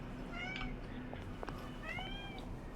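A pet cat meows twice at close range, one call near the start and another about a second and a half later, both clear over a steady low hum.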